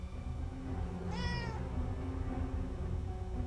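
A single clear cat meow in the video game Forspoken rises and falls over about half a second, standing out above a steady, fairly loud game background rumble.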